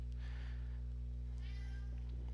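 A cat meows twice in quick succession, close but fairly soft, over a strong steady low hum.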